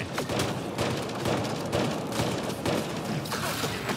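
Rapid bursts of N7 rifle gunfire in the sci-fi shooter Mass Effect: Andromeda, fired aboard a Remnant derelict ship; loud, dense volleys repeat steadily through the stretch with no talk over them.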